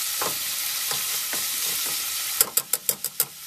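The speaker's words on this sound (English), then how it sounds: "Down in here, our bacon's still frying." Bacon frying in a pan gives a steady, close hiss of sizzling grease, ending with a quick run of about six sharp utensil clicks against the pan.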